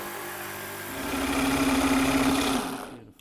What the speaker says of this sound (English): cut out the shape with a jigsaw